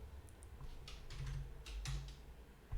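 Keys tapped on a computer keyboard in short bursts, quiet and close against a low background hum, with no one speaking.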